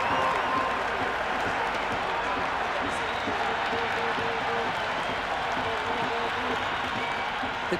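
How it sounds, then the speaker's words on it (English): Cricket crowd in the Cricket 26 video game, a dense, steady wash of cheering and applause that stays loud and continuous throughout. "The crowd are really getting quite raucous"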